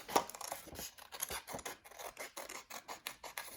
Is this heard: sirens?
no